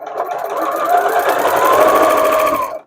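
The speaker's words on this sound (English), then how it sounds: "couple inches of sewing, another back stitch" A sewing machine runs at steady speed stitching fabric book and Kindle sleeves, a close, loud, even whirring hum with rapid needle chatter lasting nearly three seconds before stopping.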